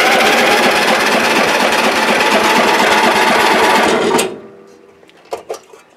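An Ariens engine on choke cranks with a loud, rapid rhythmic chugging for about four seconds, then cuts off abruptly, leaving near silence and a couple of faint clunks.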